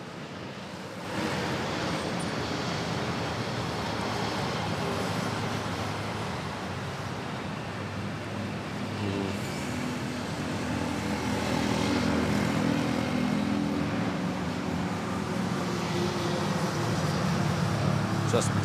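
A KLM Boeing 777 takes off at Manila Airport, a steady broad engine roar that builds and stays loud throughout, with people talking over it.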